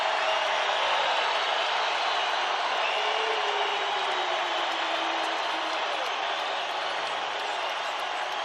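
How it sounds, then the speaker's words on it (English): A packed arena crowd at a college men's basketball game between Nevada and New Mexico roars in steady, dense applause and cheering, loud and continuous throughout with no break. "This crowd provides the soundtrack."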